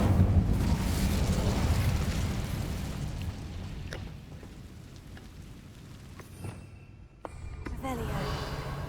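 A fire spell is cast in the video game Hogwarts Legacy with a loud, rumbling roar of flame that slowly dies down. A few sharp clicks and crackles follow, then the fiery rumble swells again.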